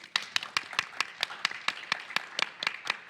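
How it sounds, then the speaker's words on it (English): Audience at a public lands and nonprofit volunteer conference session clapping, a steady run of crisp individual claps from a small crowd, close and fairly sparse, lasting about three seconds. "Let's give ourselves a round of applause."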